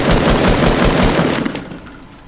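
Rapid automatic gunfire in the video game Fortnite, a dense loud burst of shots that fades out over the final second, with no talking.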